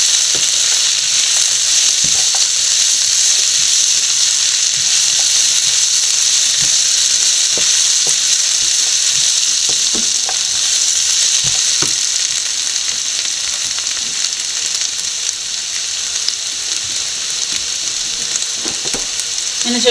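Onions sizzle steadily in hot oil with turmeric powder added for bitter gourd mezhukkupuratti, a continuous loud frying hiss broken by faint scraping clicks as a spoon stirs them around the pan.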